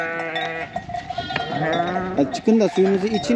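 Sheep bleat repeatedly in the snow, several calls overlapping at close range, while someone speaks over them as the animals are called out to drink warm water.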